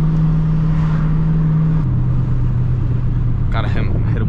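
A 2007 Mustang GT engine drones loudly while driving on backroads, its pitch stepping down midway as if downshifting, with voices talking over the engine noise near the end.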